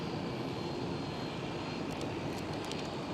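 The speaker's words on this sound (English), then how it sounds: "we are staring at a Lufthansa who is departing right now." A Lufthansa Airbus A319 jet departing Amsterdam Schiphol gives a loud, steady engine roar, full and close, with no talk over it and a few faint clicks near the end.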